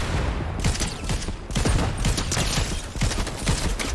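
Gunfire in the video game Fortnite, a dense run of rapid shots and bursts that keeps going, loud and close throughout, with no talking.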